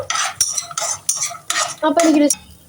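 Peanuts are roasted in a pan for Kozhikode black halwa, and a spoon stirs them with rhythmic scraping and rattling strokes, close and clear, about five bursts in a row.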